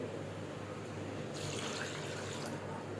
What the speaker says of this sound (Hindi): अब इसमें डालेंगे थोड़ा पानी